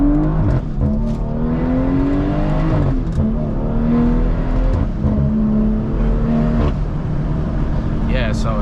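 A tuned 550 hp BMW 340i with its B58 inline-six pulls hard, the engine note climbing in rising sweeps between quick shifts, heard loud from inside the cabin with a voice at times over the drone.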